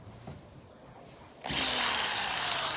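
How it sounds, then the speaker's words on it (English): A hand sheet metal shear cutting through a Chevy Silverado truck roof for a DIY sunroof install, a steady close grinding, scraping cut that starts abruptly and carries on loudly after a quiet lead-in with no talk. "this is just shear metal cutter"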